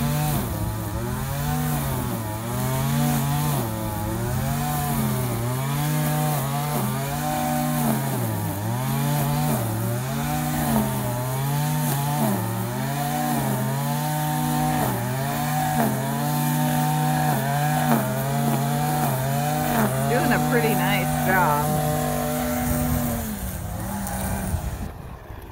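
A Stihl FS56RC bump-feed string trimmer cutting weeds, its small two-stroke engine whining and revving up and down in repeated surges, close by and steady before it cuts off near the end.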